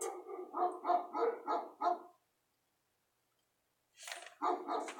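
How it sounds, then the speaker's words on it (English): Dogs barking in a quick run of about six sharp barks, then a pause of silence before another short burst, moderately distant and alone. "I don't know if I'm disturbing the dogs"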